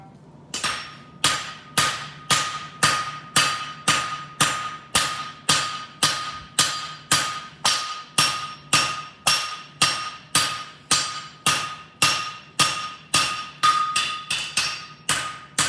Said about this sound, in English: get the big hammer out